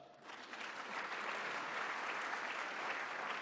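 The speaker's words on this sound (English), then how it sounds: "So give them a round of applause." Audience applause at an investment manager conference in New York, a smooth, sustained patter of many hands clapping that swells slightly and holds steady.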